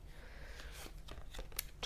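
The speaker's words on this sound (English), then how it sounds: "I'm just going to give one more shuffle." A deck of tarot cards being shuffled, a quick run of dry riffling and snapping card sounds close by, with a louder sharp flick near the end and no voices.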